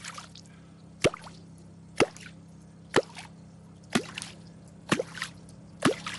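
A catfish clonk lure tool struck into water at a reservoir, making six sharp, resonant plops at roughly one-second intervals, each a short percussive gulp with a brief splashy tail, close and distinct over a low steady background hum.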